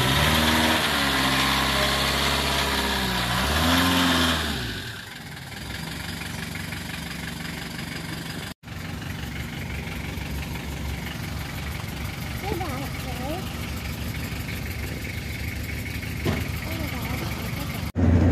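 A car engine hums steadily inside a moving car on a family holiday drive in France, a constant low drone throughout, with a voice talking briefly at the start.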